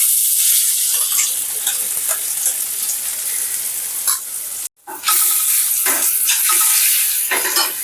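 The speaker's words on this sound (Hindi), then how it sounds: "ऑयल गर्म हो गया है। जो ठेचा हमने रेडी किया था मैं इसके अंदर डाल रही हूँ।" Chili-garlic thecha paste hits hot oil in a pan and fries with a loud, steady crackling sizzle, broken by a brief pause midway before the frying resumes, with occasional stirring scrapes.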